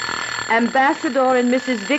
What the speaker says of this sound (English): You heard my alarm watch.